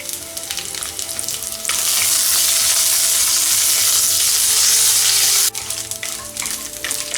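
Mustard seeds, urad dal and chana dal with dried chillies and curry leaves crackling in hot oil: a loud, dense sizzle bursts up, holds steady for several seconds, then cuts back sharply to a quieter frying hiss.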